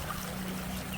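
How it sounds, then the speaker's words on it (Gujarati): Water trickles and pours into a pea and paneer curry in a pan, a short, soft, steady splashing pour heard close but quiet. "થોડુંક આપણે નાખી દઈશું પાણી"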